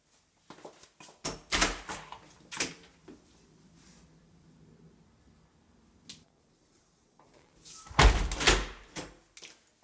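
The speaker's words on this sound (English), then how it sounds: "The door opens and closes well." A white-painted wooden door in a house, with a worn gold handle, is opened and shut several times. Its knocks and clunks come close together early on, a quieter spell follows, and a firm closing thud lands near the end.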